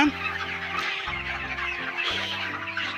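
Broiler chickens on a poultry farm, with a crowded chorus of close, overlapping clucks and squawks from many birds, loud and continuous over a steady low hum of farm machinery.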